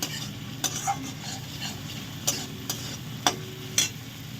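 Chopped tomato with a little ginger paste sautéing in a pan for a rohu and taro fish curry, a low sizzle broken by several sharp clinks of a spoon against the pan.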